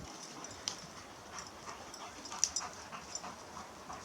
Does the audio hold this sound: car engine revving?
no